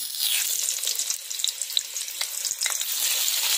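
Potatoes fry in hot oil in a wok, a bright crackling hiss running throughout with a few spitting pops, close and moderately loud with no voices.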